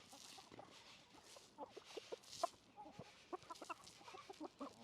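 Hens clucking in a farmyard flock that includes a small naked neck rooster, with scattered short calls and soft chatter rising and falling close by against a quiet outdoor background.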